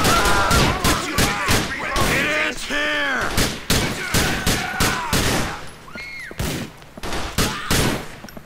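Rapid bursts of gunfire in the video game The Lost and Damned, dense and loud with sharp cracks and repeated volleys, mixed with whistling and ricochet-like tones and occasional voices.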